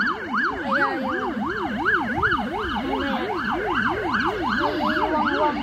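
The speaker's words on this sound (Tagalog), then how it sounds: "May wang-wang." A fire truck siren wails loudly and steadily in a rising-and-falling pattern, close by on a street in Australia, with road noise underneath and no talk.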